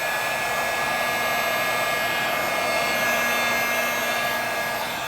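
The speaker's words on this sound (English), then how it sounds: "let me just heat up that corner" A heat tool blows hot air steadily at close range onto the corner of a handmade junk journal Christmas card, making a continuous, even whoosh with a faint motor whine that holds for the whole stretch.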